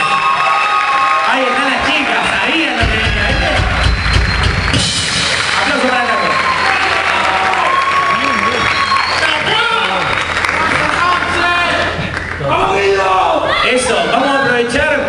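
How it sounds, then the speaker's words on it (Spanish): A concert crowd at a tribute show applauds and cheers loudly and continuously, with shouts rising over dense clapping and some music or voices mixed in. "Por favor, aplausos."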